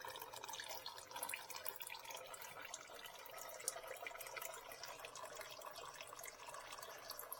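Motor oil draining from the engine of a 2021 Dodge Durango during an oil change: a faint, steady trickling and dripping of liquid that carries on evenly throughout.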